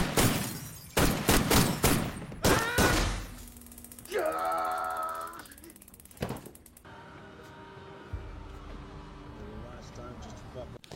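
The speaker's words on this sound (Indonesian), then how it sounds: "Hal tersebut memicu aksi tembak-menembak tak terelakkan." A film shootout with several sharp, loud bursts of gunfire in quick succession, then a mechanical rattling and clicking passage and a final shot, with a voice speaking over parts of it.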